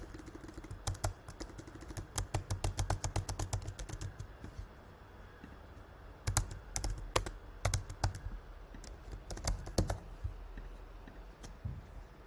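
Credit card details typed on a keyboard make rapid, clear clicking keystrokes in quick runs, with short pauses between bursts over a faint room hum.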